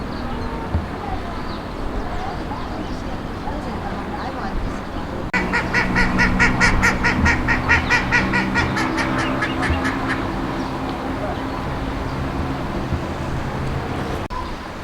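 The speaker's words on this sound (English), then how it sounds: "Those are the white-faced whistling ducks. As you can see the name, white faces, and they whistle." A flock of white-faced whistling ducks at a bird garden calls in a burst of rapid, repeated high whistles lasting several seconds, loud and close over steady outdoor background noise.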